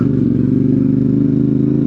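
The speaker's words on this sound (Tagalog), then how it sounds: "Tunog ng engine ng motor." Motorcycle engine and muffler running steadily at close range, a continuous low, throaty drone with a constant beat and no clear revving, with no voices over it.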